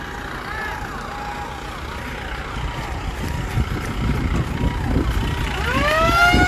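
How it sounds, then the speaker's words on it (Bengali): Forest department vehicle sirens near Siliguri, sounding to steer a wild elephant away, wail in overlapping rising and falling sweeps that grow louder toward the end, over engine rumble and background voices. "যে এই যে এত সাইরেনের শব্দ"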